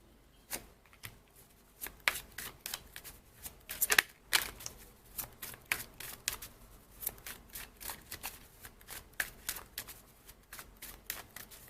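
Tarot cards are shuffled by hand during a card reading: a long run of quick, crisp riffling snaps and flicks in irregular bursts, close and fairly quiet, with no talking.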